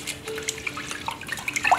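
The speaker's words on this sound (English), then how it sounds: "I'm going to drain this now" Soaked, washed basmati rice is drained, producing a brief soft trickle of water with light dripping and splashing, close and fairly quiet, with no voices.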